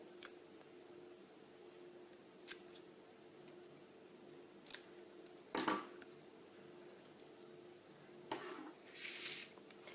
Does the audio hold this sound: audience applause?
no